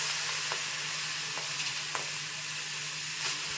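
Shredded cabbage sizzles in hot oil in a kadai for a cabbage curry, a steady close hiss broken by a few soft stirring clinks, with no talk.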